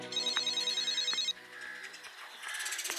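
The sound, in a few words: phone ringing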